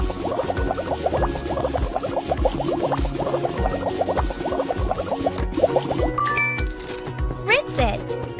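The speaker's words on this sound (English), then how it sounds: "Use the sponge to bathe her." Sponge bathing a pony in a children's dress-up and care game, with bubbly squishing and gurgling effects in a quick rhythm, then sparkly chimes and rising cartoon tones, loud over game background music.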